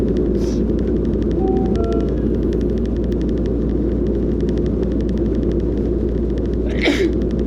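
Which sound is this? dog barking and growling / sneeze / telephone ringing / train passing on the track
sneeze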